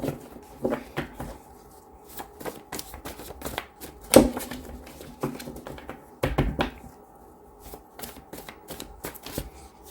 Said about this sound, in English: 3 shuffles, 10 cards, whatever comes out is what you're meant to hear.